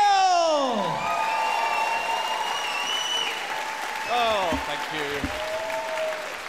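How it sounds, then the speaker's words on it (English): Audience applause and cheering for a comedian at a stand-up show, a wash of clapping with some whoops under a voice speaking as it continues. "thank you very much for that applause"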